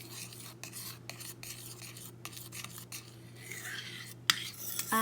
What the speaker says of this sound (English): Now I'm just gonna mix it.